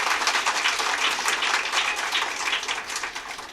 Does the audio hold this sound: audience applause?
yes